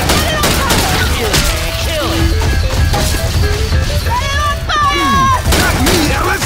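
Sustained gunfire and chaotic combat noise in Left 4 Dead 2, loud and dense throughout, with players shouting and talking over the constant shooting.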